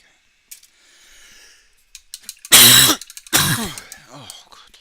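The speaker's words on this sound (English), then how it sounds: "I don't get why I've got this chesty cough." A chesty cough and a rough throat clearing burst out close and loud in two heavy fits, with faint clicks and a quiet sigh before them.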